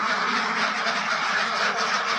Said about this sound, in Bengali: এই যে আমাদের হাঁস এগুলো হচ্ছে যে অরিজিনাল খাকি ক্যাম্বেল হাঁস